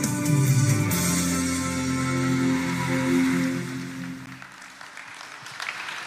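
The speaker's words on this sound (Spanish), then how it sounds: "Recibamos con un fuerte aplauso la palabra de Dios." A church congregation in Mexico claps loudly at a Christian service, with sustained tonal music or a held sung note underneath, dropping off after about four seconds into quieter room sound.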